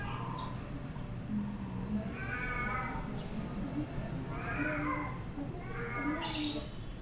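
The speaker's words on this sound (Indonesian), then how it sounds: "ada suara kucing mengeong, hiraukan saja ya" A cat meows several times at intervals, fairly faint, over a low outdoor background hum in front of a boarding house.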